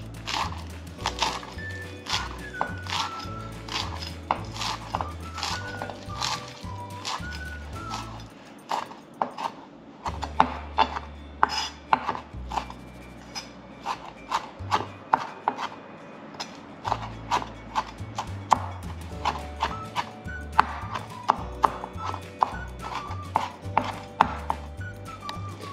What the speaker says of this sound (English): and chop it up.